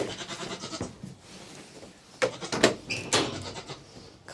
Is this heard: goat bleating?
yes